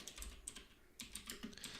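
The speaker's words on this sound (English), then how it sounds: "So let's just put the code in, or type the code in." Close computer keyboard typing while Java code is entered, quick irregular keystroke clicks in short bursts with a brief pause in the middle, no talking.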